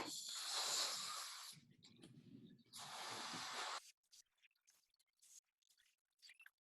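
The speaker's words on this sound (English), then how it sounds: "I'm going to put some air in the balloon." A person blows air into a balloon during a classroom demonstration of gas molecules, producing two sustained breathy rushes of air, each lasting over a second, followed by faint scattered handling noises.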